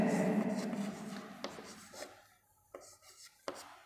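Pen or chalk writing out a DC motor problem: quiet scratchy strokes and a few sharp taps, close and faint, fading into near silence.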